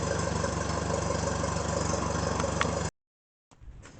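An old tractor engine idles steadily and loudly at close range for nearly three seconds, then cuts off abruptly into silence before a fainter mechanical rumble returns.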